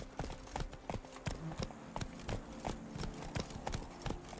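Geralt's horse Roach galloping in The Witcher 3: Blood and Wine, a steady, rhythmic run of hoofbeats close by over faint background ambience.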